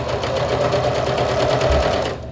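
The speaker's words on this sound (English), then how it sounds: "I just fold it over and then sew" A sewing machine stitches steadily through a folded-over seam to form a finished edge, its rapid needle chatter running loud and continuous before stopping abruptly at the end.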